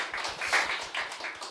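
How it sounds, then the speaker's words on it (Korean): An audience clapping together in a forum hall, a dense and steady burst of applause close by, with no voices over it. "그러면 박수를 쳐주시죠."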